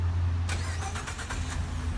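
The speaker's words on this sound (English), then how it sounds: "So, being a Lariat, truck does have remote start." A 2014 Ford F-150 Lariat 4X4 starting by remote start: a low steady rumble gives way to a quick cranking catch, then the engine settles into an even idle, close and clear.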